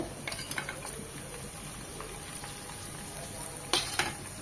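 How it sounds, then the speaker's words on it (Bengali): Small khalse fish deep frying in plenty of oil, a quiet steady sizzle with a few light scrapes and clinks of a utensil, one brief louder crackle near the end. "খলসে মাছগুলো ডুবো তেলে ভাজলেই ভালো হয়।"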